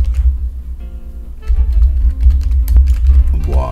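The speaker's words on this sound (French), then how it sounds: "Et là je tape mon adresse email." Fast typing of an email address on a computer keyboard, a close dense run of key taps over a low background rumble.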